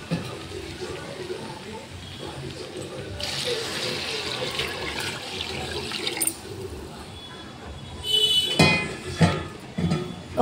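Water poured into a cooking pot of rice for mushroom biryani, a steady splashing stream running for several seconds, then a louder burst of pouring and clattering near the end.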